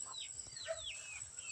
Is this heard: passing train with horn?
no